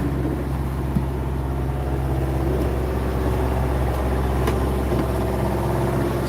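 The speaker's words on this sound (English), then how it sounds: "Sorry for the engine noise." A sailing boat's engine runs at sea on a passage toward Fiji, a steady, loud low drone and hum that stays even throughout with no voices.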